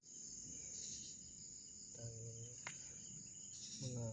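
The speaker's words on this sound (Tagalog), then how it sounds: "Mga boses lang, mga kuliglig at ibon yung maririnig natin dito sa buong lugar na to." Crickets chirr in a steady high drone at dusk in a rural Philippine clearing by a hut, with a few brief bird calls breaking in now and then; fairly faint and unbroken, no talking.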